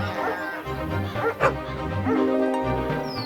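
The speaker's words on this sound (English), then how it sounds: "The dogs chased the wolf away and saved the lamb." Cartoon dogs yip and bark in short excited bursts as they chase a wolf away in a children's story, set against a steady music bed, with one sharper yelp standing out midway.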